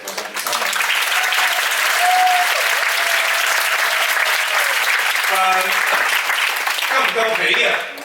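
Sustained, loud applause from a theatre audience at a Cantonese stage play runs the whole length, with a host's voice breaking through briefly over the clapping near the end.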